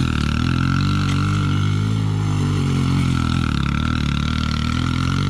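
Stock Yamaha YZ125 two-stroke dirt bike engine, running loud and steady at close range with a buzzy, sustained drone throughout.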